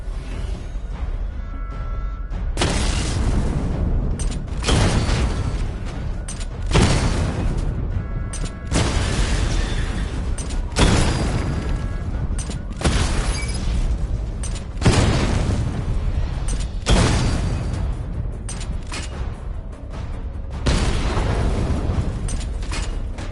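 Repeated heavy booms from a missile barrage in a PS4 video game, roughly nine loud bursts in steady succession about every two seconds, each a dense low rumble with a quick onset, no talking.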